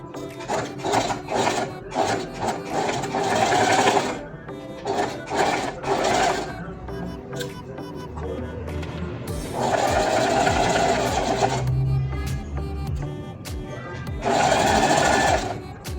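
An electric sewing machine stitches a fabric seam in several separate runs, each a fast close mechanical whirr of needle strokes, with short pauses and handling noise between bursts.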